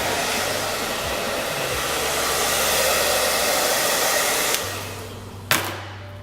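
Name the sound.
hair dryer blowing on hair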